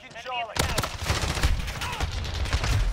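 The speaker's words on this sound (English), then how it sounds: "Oh, his buddy shot me." Rapid bursts of gunfire in the video game Modern Warfare, sharp repeated shots cracking loudly one after another for nearly three seconds, with no talk over them.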